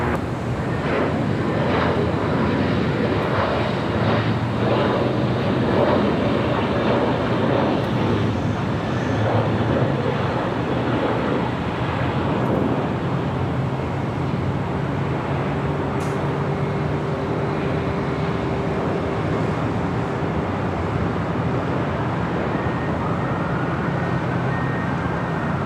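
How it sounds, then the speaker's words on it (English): A JetBlue Airbus A321 lands at LAX, producing a sustained jet roar with a low engine drone and a rising, then falling, whine, set against wind buffeting the microphone. "JetBlue, Flight 101, A321 coming in from Fort Lauderdale,"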